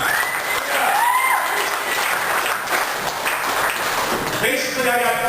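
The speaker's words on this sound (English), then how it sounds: "Give yourselves a round of applause again." Audience applause at a comedy show, a steady wash of clapping from a large crowd lasting several seconds, with a few whistles and shouts rising over it.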